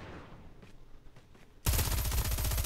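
Pistol gunfire in a battle-royale-style video game, first quiet for about a second and a half, then a sudden, loud, sustained stretch of rapid, rhythmic shots that runs to the end.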